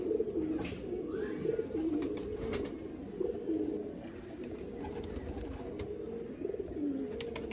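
Sialkoti pigeons coo in repeated soft, rolling phrases at close range, with faint flutters and clicks over a steady background hum and no talking.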